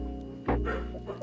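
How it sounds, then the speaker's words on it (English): A dog indoors giving a single short bark in the middle, followed by a softer second yelp, over a steady background hum of game music. "Excuse my dog"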